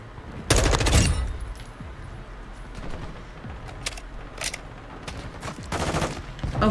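A turret machine gun fires in the Modern Warfare 2 shooter, with a loud, dense burst near the start and another near the end over a steady bed of battlefield noise.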